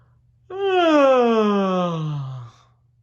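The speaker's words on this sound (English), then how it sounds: "He stepped out of Sully's office and yawned loudly." A single loud, drawn-out yawn falls in pitch over about two seconds, starting abruptly and fading to a low groaning close, with a faint steady hum underneath.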